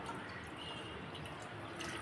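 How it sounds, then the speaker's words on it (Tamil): Coconut milk is poured into a pot in a short, steady stream, a low gurgling splash at a modest distance. "அடுத்ததாக அரைக்கப்பளவு அளவு தேங்காய் பால்"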